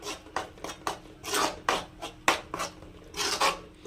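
A spoon scrapes and rasps against a pan as a dry fish thokku masala with raw tomato is stirred, giving a dozen or so close, rhythmic strokes with short pauses between them.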